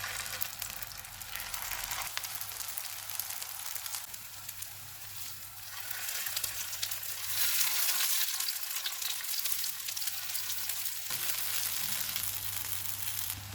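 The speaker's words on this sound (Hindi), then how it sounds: "तवे पे थोड़ा सा ऑयल डालेंगे। ऑयल गर्म हो गया है, कबाब रखेंगे।" Vegetable seekh kebabs fry in a little hot oil on a griddle over low-to-medium heat. A steady, dense sizzle holds throughout the stretch and swells louder for a few seconds midway.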